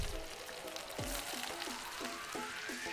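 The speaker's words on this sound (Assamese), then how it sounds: "গৰম তেলত পিঁয়াজকণ দি দিয়াৰ লগে লগে যিটো চাউণ্ড ওলায়" Chopped onions hit hot oil in a kadai and sizzle softly and steadily, with faint clinks and stirring sounds over the continuous hiss and no talk.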